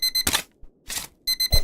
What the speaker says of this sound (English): That is our evening alarm, just to tell us it's night.